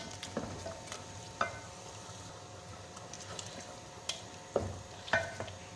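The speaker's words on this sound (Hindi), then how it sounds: "और फ़ौरन से ही चम्मच चला दूँगा" A spoon stirs a cornflour mixture into simmering chicken corn soup in a pot, giving soft swirling liquid sounds with a few light clinks against the pot, close but fairly quiet.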